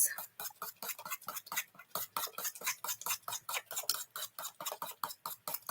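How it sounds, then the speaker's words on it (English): Rapid, steady whisking of wet ingredients in a dish for a cabbage bake, with regular rhythmic scraping strokes at close range, each stroke crisp and evenly spaced. "I'm just giving a good old whisk."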